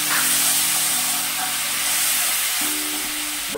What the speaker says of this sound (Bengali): মশলাটা যাতে পুড়ে না যায় তার জন্য দেব সামান্য জল